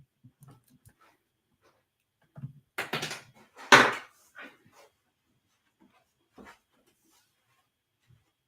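A Pomeranian dog makes a few loud, close, sharp barks or yelps in a brief cluster, with softer whimpers and small shuffling noises before and after in an otherwise quiet room.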